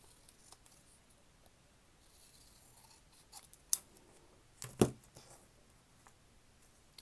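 Scissors cutting through a heavy paper page in a quiet room, faint snips building to two or three sharper, louder cuts near the end.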